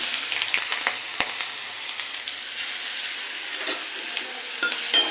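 Chopped onion sizzles in oil with bay leaf and cumin for rui fish kalia, the oil already used to fry fish. A steady, close frying hiss carries a few sharp stirring clicks.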